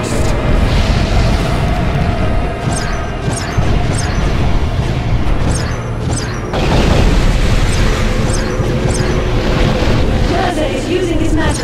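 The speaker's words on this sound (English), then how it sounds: "Time for you to taste dragon fire, beast." Dragon fire roars out in the Eragon video game, with loud, continuous booming blasts and rumbling crashes layered over dense battle noise, swelling again midway.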